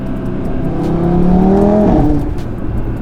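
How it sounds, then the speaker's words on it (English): Audi RS3 engine with a catless downpipe exhaust revving up, a loud raw growl that swells in pitch and then drops back, steady and close with no voices. "you already can hear so much raw sound from the engine"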